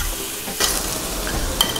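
A burger patty fries steadily in a pan with a close, continuous sizzle, broken by a couple of soft scrapes and clunks as the patty is flipped.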